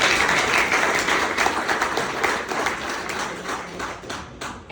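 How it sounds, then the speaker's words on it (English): Applause from the crowd at a networking launch event, a lively burst of many hands clapping close by that gradually thins and fades toward the end. "That deserves a round of applause."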